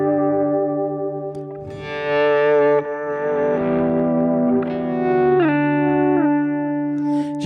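Electric guitar playing sustained tone swells through a delay pedal, notes fading in and repeating as bouncing echoes that overlap into a shimmering wash; steady, close and fairly loud, with no voices.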